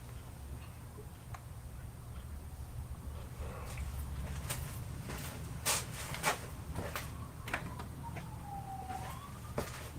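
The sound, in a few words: sirens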